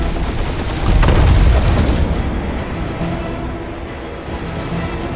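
Rapid gunfire and heavy bursts rattle loudly in the Guardians of the Galaxy video game for about two seconds, then fade into a lower, rumbling battle backdrop.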